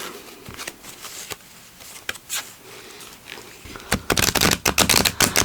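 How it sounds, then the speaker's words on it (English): Cards being shuffled: scattered soft riffles and taps, then a fast, loud burst of crisp flutters near the end. "let's get shuffling"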